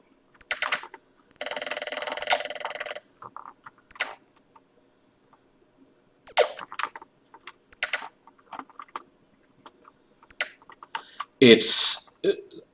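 Someone plays Night Stalker on an Aquarius computer from 1982, tapping its squishy keys in short bursts of clicky presses, close and fairly loud, interleaved with electronic game bleeps and tones.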